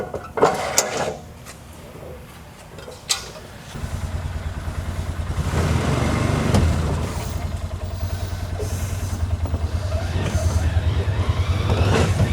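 An old Ranger utility vehicle's engine idles and then runs with a steady pulsing rumble as it is driven off a trailer, after a few clanks and knocks, with voices talking nearby.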